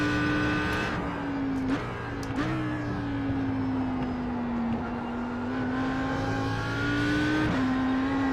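Audi R8 GT3 race car on the Bathurst circuit, its engine droning steadily from onboard, with sharp gear shifts at several points that drop and restart the pitch, loud and continuous.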